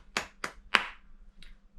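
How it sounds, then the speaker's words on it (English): Three sharp hand claps in quick succession, a full palm-to-palm clap among them, then a softer fourth, close and bright in a quiet room. "I didn't do it on a full clap, which you would, which would sound like that"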